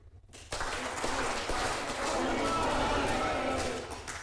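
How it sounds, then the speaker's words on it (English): Crowd at a fiftieth-anniversary college reunion breaks into loud applause and shouting after a brief quiet start, a dense sustained roar of clapping and voices that holds to the end. "I request everyone to clap with me 3 times and shout 45 as loud as you can."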